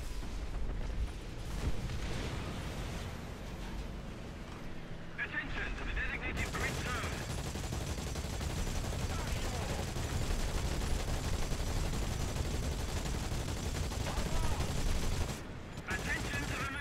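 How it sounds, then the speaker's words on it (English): A tank's machine gun fires in the War Thunder video game, long sustained bursts of rapid shots rattling almost without pause over a loud engine and battle rumble. "That MG sounds so good."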